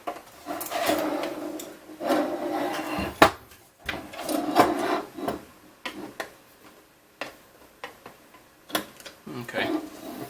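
An M4 screw is driven from the top through MDF into a nut during a RepRap Wilson TS 3D printer assembly, with scattered close woody clicks, scrapes and ticks in uneven bursts.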